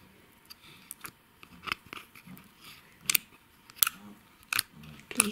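Slime made from glue, activator and cream is squeezed by hand, giving a series of sharp, irregular clicks and snaps, quiet and close, with soft squishing between them.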